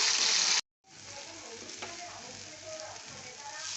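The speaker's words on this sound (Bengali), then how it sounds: "এবার আমি তেলের মধ্যে আদা, রসুন, পেঁয়াজ, লঙ্কা বাটা দিয়ে দেবো। ভালো করে কষিয়েও নেব।" Ginger, garlic, onion and chili paste fry in hot oil for a Bengali dried-fish curry, giving a steady, close sizzle that briefly cuts out, then returns as a softer, even crackle with faint stirring.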